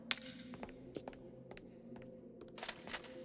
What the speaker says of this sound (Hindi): आखिरी शीशा वो भी टूट चुका है।